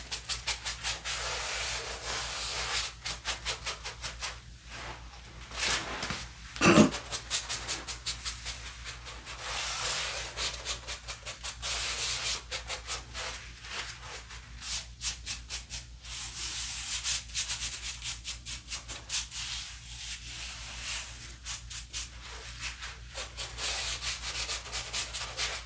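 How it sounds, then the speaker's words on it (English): Steady scrubbing and rubbing along an arm in a close, intimate ASMR security pat-down role-play, a continuous brushy friction with rhythmic strokes and one sharper tap partway through, no talking. "To scrub down his arm for illegal substances."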